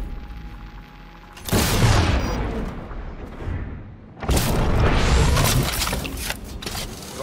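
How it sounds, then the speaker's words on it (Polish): Gunfire in the Cyberpunk 2077 video game: two long dense bursts of loud shots and booming impacts, separated by a brief lull, with no talk over them. "Strzały."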